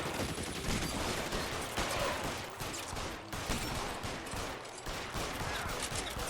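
Sustained gunfire from a video game shootout in L.A. Noire, a dense, continuous crackle of shots with no clear gaps between them and no voices.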